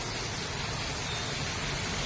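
Heavy rainfall during a typhoon makes a dense, steady hiss of rain pouring down, loud and unbroken for a couple of seconds, with no voices.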